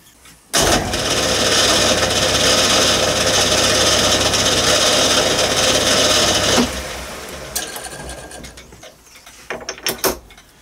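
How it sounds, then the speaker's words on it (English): A lathe centre drilling the end of a small part for a garden railway carriage axle gives a steady, close mechanical whir with a faint rhythmic ticking. It runs for about six seconds, then cuts off, leaving scattered clicks and handling noises. "Then I will centre drill, ready to drill the hole for the axle."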